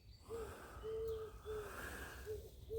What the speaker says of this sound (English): But we've got a few pigeons.